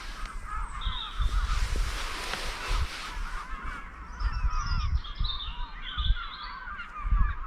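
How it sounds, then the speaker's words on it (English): Gull-like birds call repeatedly beside a reservoir at night, harsh honking cries layered over one another at middle distance above steady low background rumble, with no talk. "They sound like seagulls."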